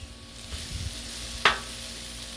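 Cheesesteak meat frying on a Blackstone griddle for Mexican-style tortas, a faint steady sizzle with a single sharp scrape or clack partway through.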